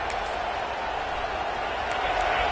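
Stadium crowd at a college football game, a broad steady roar of cheering that holds evenly loud throughout with no single voice standing out.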